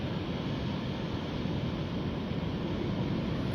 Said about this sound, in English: Oh, these waves are just incredible to watch.